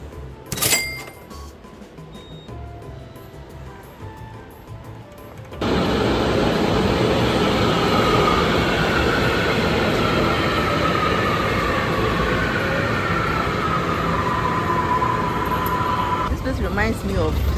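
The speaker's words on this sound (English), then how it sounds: "today I am taking the subway or the metro." Loud, steady roar of a Panama City metro train running on its tracks, with a rising electric whine, preceded by quieter station ambience and a sharp clunk near the start.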